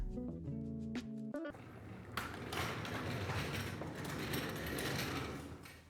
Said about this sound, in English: being able to 3D print this is so cool